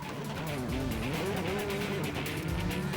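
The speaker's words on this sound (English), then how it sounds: "So I can hear the sound of Gilles Panizzi in his Mitsubishi." A Mitsubishi rally car on a German rally stage is heard at a distance, its engine note rising and falling as it works through a corner, a continuous rough roar with some faint tyre noise.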